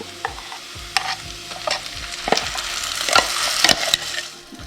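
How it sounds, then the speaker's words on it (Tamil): Ground masala paste being stirred into sautéed onions and neem-style curry leaves in a pan for fish curry, with repeated scraping stir strokes over a soft sizzle, close and fairly loud, no talk. "இப்போ நல்லபடியாக இந்த வெங்காய தாளியத்தோட இந்த மசாலாவை சேர்த்து இப்படி லேசாக கலந்து விடுவோம்."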